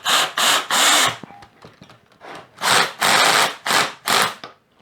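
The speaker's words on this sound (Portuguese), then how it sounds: "Eu vou manter a força da catraca do Pinos para fazer aqui no IP, só para vocês verem até onde esse parafuso vai" A drill driver drives a screw into woodwork with its clutch set weak, so the motor whirs in repeated short bursts separated by brief pauses, loud and close, as the screw stops sinking.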